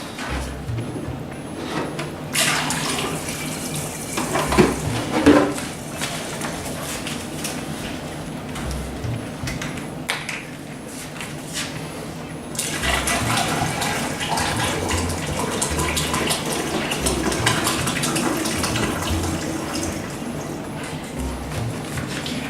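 Room-temperature water pouring steadily while mixing a mango mead must, a continuous rushing splash that runs for most of the stretch, with brief clatters of handling in between and a louder, fuller pour toward the end.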